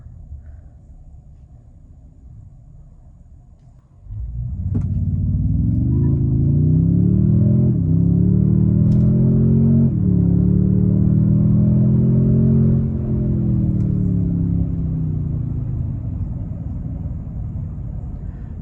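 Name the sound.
2024 Toyota Tundra TRD Pro accelerating 0 to 60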